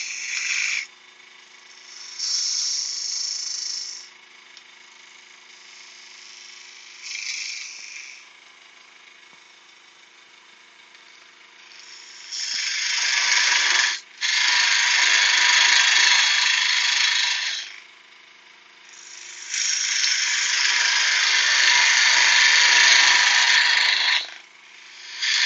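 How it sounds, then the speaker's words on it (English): A skew chisel cuts wood spinning on a lathe, giving loud hissing, scraping bursts of several seconds each, separated by quieter stretches where the lathe hums alone. "Just using a skew chisel."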